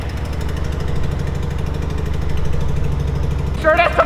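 A Mazda RX-7 rotary engine, newly fitted with turbos, runs on leftover fuel with its fuel pump fuse pulled, a loud, steady, throbbing low idle close by, with a brief higher burst near the end.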